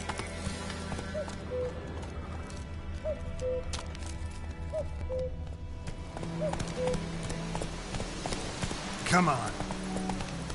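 Roach, a horse in The Witcher 3, gallops with steady clip-clop hoofbeats under continuous game ambience and music, while a voice speaks briefly over it.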